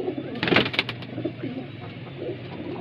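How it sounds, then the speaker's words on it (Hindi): Coos from a highflyer pigeon kept in Bareilly, a few soft calls clustered near the start over steady background noise, fading into quieter ambience afterward. "देखिए दोस्तों, बहुत ही प्यारा कबूतर"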